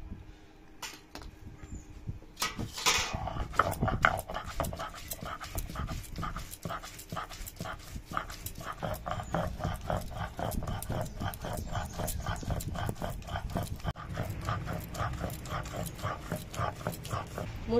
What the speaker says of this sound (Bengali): আগে মুসুরির ডালটা বাটবো।